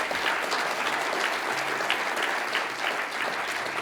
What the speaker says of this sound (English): Can I have another round of applause for Ben?